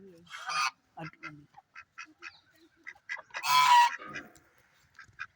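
Ducks quack and honk in scattered short calls, one louder burst standing out, with faint voices mixed in.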